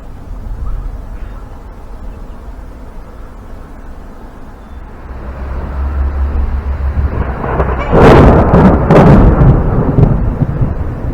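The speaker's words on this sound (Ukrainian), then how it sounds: "У нас Тіна боїться дуже грому." A deep, heavy rumble of thunder builds amid wind noise as a rainstorm arrives, with a couple of loud cracking bursts near the end.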